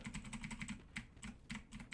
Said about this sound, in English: So I'm moving forward with the keyboard on W key